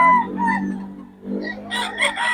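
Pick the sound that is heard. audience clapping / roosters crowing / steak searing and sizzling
roosters crowing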